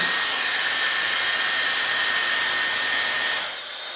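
A Dyson hair dryer on scalp mode blows with a steady, loud whoosh and whine, then drops to a lower setting near the end.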